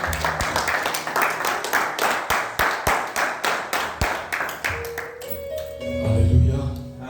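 A church congregation claps in a steady rhythm, close and fairly loud, the beat running for about five seconds before it thins out and voices and tones take over.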